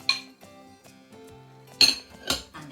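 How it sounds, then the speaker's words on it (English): A spoon scrapes and clinks against a mixing bowl as dark brown sugar is mixed into flour and rubbed-in butter, a few sharp close knocks with softer scraping between. "I'm just going to give that a quick mix in"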